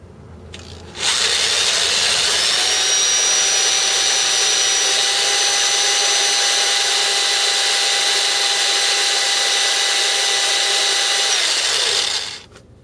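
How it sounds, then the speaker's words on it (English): A quarter-inch drill bit bores a hole for tapping during timing crankshaft sprocket removal on a Nissan Hardbody VG30E, the power drill whining steadily and loud for about eleven seconds before stopping abruptly. "I just got a simple quarter inch drill bit."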